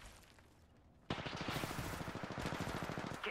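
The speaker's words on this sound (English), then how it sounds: "Getting shot at." A burst of rapid automatic gunfire in Apex Legends breaks out suddenly after a quiet moment, loud, continuous and rhythmic shots rattling for a couple of seconds.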